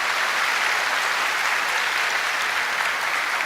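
Audience at a worship ministry gathering breaks into dense, continuous applause, loud and close, with no talk over it.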